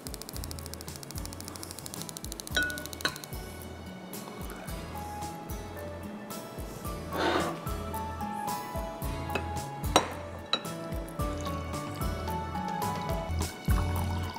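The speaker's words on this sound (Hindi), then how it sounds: "एक कप पानी डालेंगे साथ में," A cup of water is poured into a cooking pot on the stove while making harissa, a short splashing pour over a steady background hum and clatter of the kitchen.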